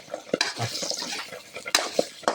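Crispy fried catfish stir-fried with herbs over a fierce flame, close scraping and clinking of a utensil in the pan over a soft sizzle, with several sharp metallic taps.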